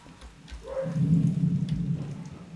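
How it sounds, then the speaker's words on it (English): Thunder in the train game Derail Valley rolls in as a low, swelling rumble that builds and lingers, with faint rain-like hiss behind it and no talk over it. "You guys will be able to hear the thunder."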